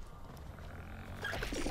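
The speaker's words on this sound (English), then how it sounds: "that sounds like maybe a rumbly tummy" Low rumbling growl from a creature in the video game Planet of Lana, faint and brief, rising slightly toward the end.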